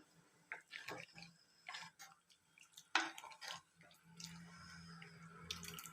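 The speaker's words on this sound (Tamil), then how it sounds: "நமக்கு வேணுங்கிற அளவு தண்ணி சேர்த்துக்கலாம்." Water poured into a pot of bitter gourd sambar in a home kitchen, heard as faint, intermittent splashing and dribbling bursts against a quiet background.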